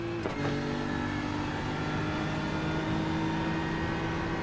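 A BMW GT3 race car engine in the iRacing sim drones at steady high revs through a twenty-lap race, a continuous loud whining roar with a brief click at the start and no talk.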